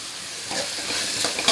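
Drumsticks and brinjal sautéing in a pan for a tamarind curry with black-eyed peas, giving a steady close sizzle and frying hiss with faint stirring, no voices.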